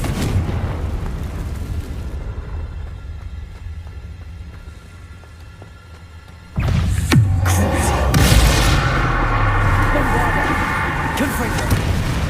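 A Confringo fire spell from Hogwarts Legacy bursts inside a cave, a sudden loud explosive boom that opens into a broad rumbling blast carrying on for several seconds over game ambience and background speech.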